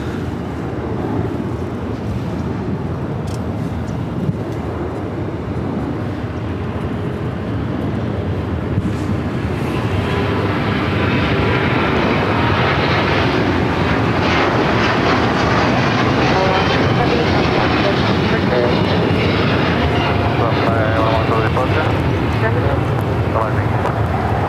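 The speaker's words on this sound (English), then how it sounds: "This is LL Flight 6 taking off to Tel Aviv on the 787-9 Dreamliner in the retro livery." An El Al Boeing 787-9 Dreamliner in retro livery takes off from LAX for Tel Aviv, its engine roar building sharply midway into a loud, sustained broadband rush. Voices talk over the quieter opening.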